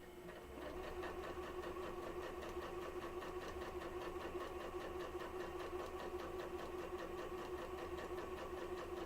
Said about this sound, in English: All I'm doing right now is sewing one strip to another strip